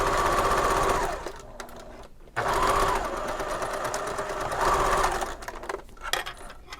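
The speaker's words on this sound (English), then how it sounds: "I'm going to make sure to back stitch when I first start sewing" Sewing machine running in two long stitching bursts along a fabric seam with a 1/4 inch allowance for a marble necklace, steady close whirring motor hum broken by a brief pause near the middle and stopping near the end.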